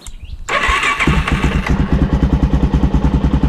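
Suzuki DR-Z400 motorcycle engine cranks and fires after a brief silence, then settles into a steady, thumping single-cylinder idle as it warms up, loud and close with no voices.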